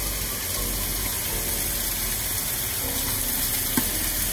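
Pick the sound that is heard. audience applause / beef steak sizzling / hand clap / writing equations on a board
beef steak sizzling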